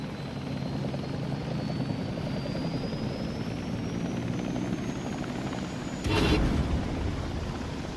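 Enemy helicopter in the WARDOGS video game, a steady loud rotor drone throughout with a whining engine tone slowly rising in pitch and a brief louder burst near the end.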